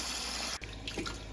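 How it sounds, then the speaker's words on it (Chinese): Concentrate waste water from a newly installed reverse osmosis water purifier gushes out in a steady, close rushing stream, briefly interrupted midway. "开机上水，看这个浓缩水排出来的水量就这么多。"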